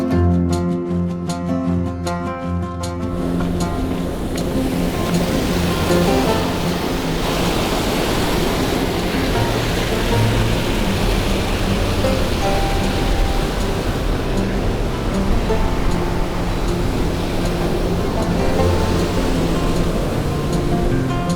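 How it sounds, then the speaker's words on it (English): The River Brue pours over the weir at Clisshole in a steady, broad rushing roar, loud and continuous with no voices over it. "The weir here at Clisshole is a popular spot with locals who like to come down here and dip in the water"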